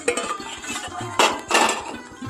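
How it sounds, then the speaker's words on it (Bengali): A metal cooking pot lid lifted off during mango pickle making, giving clattering clinks and knocks of pans and utensils at close range, with two brighter metallic scrapes. "এখন আমি ঢাকনাটা খুলে নেব।"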